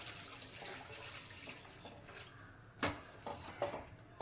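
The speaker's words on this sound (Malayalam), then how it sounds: "നമ്മളിനി 3/4 കപ്പ് വെള്ളം ഒഴിക്കും." Three-quarters of a cup of water poured into a pan of browned upma base, a soft splashing pour nearby that swells into a louder burst of sizzling gurgles toward the end, no talking.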